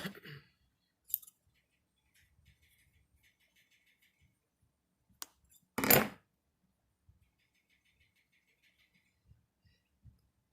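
Scissors snip at a Lion Brand yarn pom pom in a few short, quiet cuts scattered across near silence, with one louder burst of snipping in the middle.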